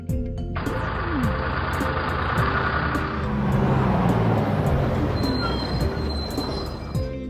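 A yellow toy hot dog van's engine sound effect: a loud, steady mechanical roar with metallic squeals and rumbling, running continuously with no voices.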